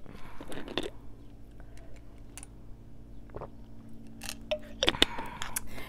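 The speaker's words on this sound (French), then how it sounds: "Je vais reprendre une gorgée." A person takes a sip of a drink, with brief close mouth and swallowing noises in short bursts near the start and again near the end, over a quiet room with no talking.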